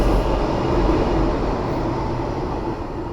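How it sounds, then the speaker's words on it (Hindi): A Delhi metro train arrives at the station with a broad, steady rumble and rushing noise that holds loud and even throughout, gradually easing slightly near the end. "फ़िलहाल मेरी मेट्रो अराइव हो चुकी है"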